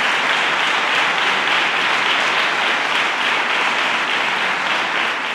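Sustained audience applause fills a hall at a Holy Week poster presentation by a Spanish religious brotherhood, dense, steady and loud from start to finish with no talk over it.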